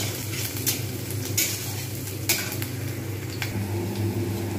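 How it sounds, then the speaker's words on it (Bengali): Onions frying in oil in a pan, a steady close hiss of sizzling with a few soft knocks and scrapes of a stirring utensil. "ভালো করে সুন্দর করে একটু ভেজে নেব পেঁয়াজগুলো লাল করে"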